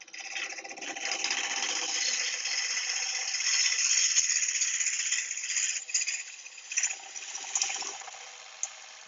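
A bowl gouge makes a supported cut into a wooden bowl spinning on a wood lathe, a steady bright hissing, rattling scrape close by that continues, then breaks into a few separate scraping bursts near the end.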